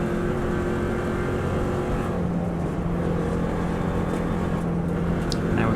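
A 2018 Subaru Impreza engine roars continuously at full throttle in sixth gear, a loud, steady drone from inside the car with no talk.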